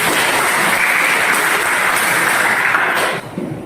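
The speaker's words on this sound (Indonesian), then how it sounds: "mari kita berikan applause buat Valeria" A classroom of students clapping for a fellow student, steady dense applause for about three seconds before it quickly thins out and stops.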